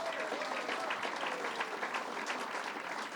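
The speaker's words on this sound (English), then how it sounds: "let's give that a round of applause." An audience at a Long Island government announcement gives a sustained, even round of applause, moderately loud with a constant crowded texture.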